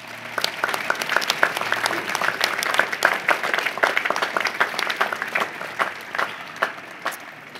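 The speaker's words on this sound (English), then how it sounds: "let's show our friends and family our gratitude one more time with a round of applause" Audience at the University of Virginia School of Law 2014 graduation ceremony giving a round of applause: many hands clapping steadily at moderate loudness from a large crowd, with no voices rising above the clapping.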